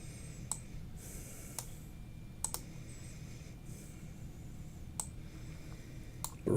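Keys on a computer keyboard tapped a few times at irregular intervals, with faint, sparse clicks over a low, steady background hum.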